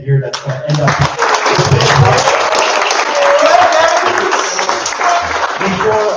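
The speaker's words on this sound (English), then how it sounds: "I'd like to give it a huge applause for Kevin here" A demo day crowd bursts into loud, dense applause for the final pitch, a continuous wash of clapping with some cheering and voices mixed in, close and full.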